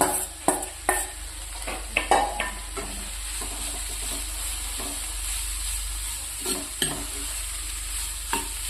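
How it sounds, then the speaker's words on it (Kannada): Grated radish sizzles steadily in a pan for a dry radish stir-fry, with repeated scraping strokes of a spatula stirring it throughout, close and fairly loud. "ಈ ಮುಲಂಗಿ ಎಲ್ಲ ಇದಕ್ಕೆ ಹಾಕಿ ಒಂದು 5 ನಿಮಿಷ ಇದನ್ನು ಹುರ್ಕೋಬೇಕು"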